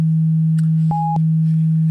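A steady, loud, pure sine tone from a SOMA Laboratory Rumble of Ancient Times synthesizer oscillator drones throughout, briefly broken by a short higher beep-like tone in the middle.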